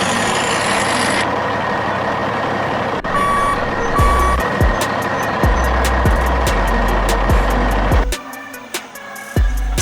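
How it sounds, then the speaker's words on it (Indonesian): An animated underground mining truck sounds a run of loud, evenly spaced reversing beeps over a rumbling engine, the beeping repeating close by before the engine noise drops away near the end. "Underground Mining Truck ukurannya lebih kecil dibanding truk"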